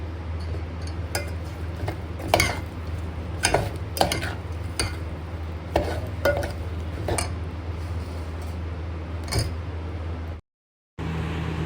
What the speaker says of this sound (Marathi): आता मी हे मँगो मिक्स करत आहे